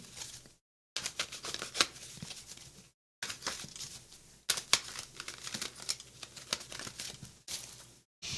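Tarot cards handled and shuffled at a reading table, giving dense papery riffling and crinkling bursts that run steadily with a few brief pauses, close and fairly loud, with no talk.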